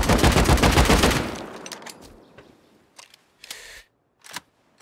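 Rapid gunfire in Rust tearing into a tool cupboard, a loud close automatic burst for just over a second, then a few scattered single shots and short bursts trailing off into quiet.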